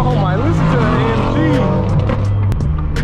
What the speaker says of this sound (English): Nice V10 R8 downshifting